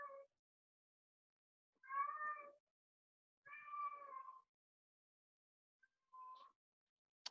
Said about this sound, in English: the cat's talking again